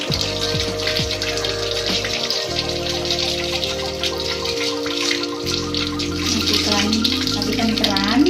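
Hands being rinsed under a running tap during a sterilization-area handwashing procedure, a steady stream of water splashing with shifting tones as the hands move through it, close and continuous.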